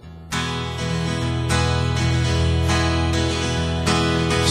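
An acoustic guitar strums the chords of a song, rich and close, with fresh strums landing about every second in a steady rhythm and no voices.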